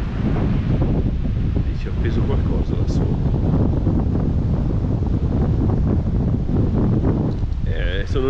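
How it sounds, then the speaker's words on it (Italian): Strong, steady mountain wind at Lake Ghirla buffeting the microphone with a roaring, gusty rumble throughout, voices faintly mixed in beneath it. "ma il vento c'è"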